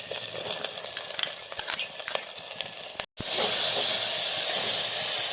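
Vegetables with paneer cooking dry in a pressure cooker, a steady close sizzle and hiss with stirring scrapes, then a brief cut to a louder, continuous steam-like hiss.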